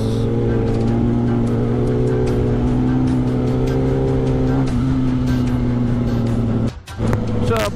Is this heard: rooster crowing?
no